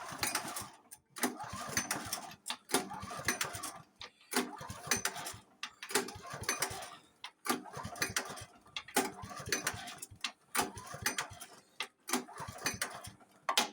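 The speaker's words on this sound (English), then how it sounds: "you pull your starter cord about 8 to 10 times" A flooded Honda snowblower has its starter cord yanked repeatedly, about a dozen sharp rattling pulls in a fairly even rhythm, each a short scraping burst separated by brief gaps, close and moderately loud.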